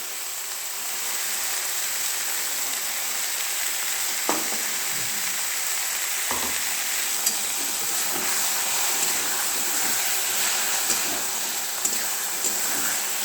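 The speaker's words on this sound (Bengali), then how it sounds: "পোস্ত দিয়ে নাড়ছি" Poppy seed paste being stirred into onion greens frying in oil gives a steady, close sizzle throughout, with a couple of sharp spoon scrapes and clinks against the pan.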